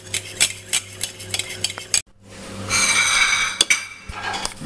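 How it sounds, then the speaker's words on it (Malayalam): Appam batter being stirred in a bowl as rice flour goes in bit by bit, with rhythmic spoon scrapes and light clinks against the bowl, then a louder stretch of brisk mixing with no talking. "നന്നായി മിക്സ് ചെയ്യുക. ഇതിലേക്ക് നമ്മൾ അരിപ്പൊടി കുറേശ്ശെയായി ചേർക്കുന്നു."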